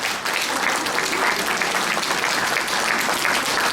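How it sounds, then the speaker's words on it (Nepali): Sustained, dense applause from a church congregation at a 25th anniversary celebration in Kathmandu, steady and loud for the whole stretch with no pauses. "ताली हामी बजाइ नै रहनेछौँ"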